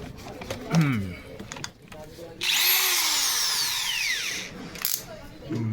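A power drill drives screws while a low-budget speaker box is being built, its high whine rising and holding for a few seconds after shorter bursts, loud and close, with someone talking before and after.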